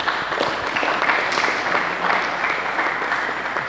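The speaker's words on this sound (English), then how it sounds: "let us give him a good round of applause" Audience applause at a self-discovery session talk, a dense steady patter of many hands clapping together throughout, fairly loud and close.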